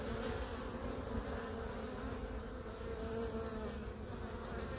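Honeybees buzz at a hive entrance as foragers return carrying pollen, a dense, continuous hum of many wings close by and with no talking.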